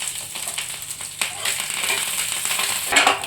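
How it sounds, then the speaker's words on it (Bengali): Curry leaves, chilli and mustard seeds fry in hot oil for a dhokla tempering, giving a continuous close sizzle and crackle with a brief louder spit near the end. "কারি পাতা চিনি সরষে এবং লঙ্কা এখানে দিয়ে ভাল তেল দিয়ে ভালো করে ভেজে নিতে হবে"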